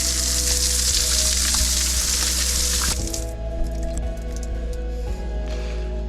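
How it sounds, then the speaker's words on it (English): Cold water runs from an outdoor shower in a national park, a loud broad hiss that pours steadily for about three seconds, then cuts off, leaving faint drips and quiet surroundings. "Check out this sweet little outdoor shower I just found."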